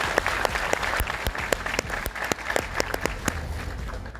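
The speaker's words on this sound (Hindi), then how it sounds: "आप सबके अप्लाई तालियां होनी चाहिए एक बार जोरदार तरीके से।" Seminar audience breaks into loud, sustained applause in a hall: a dense wash of many hands with sharp individual claps standing out throughout.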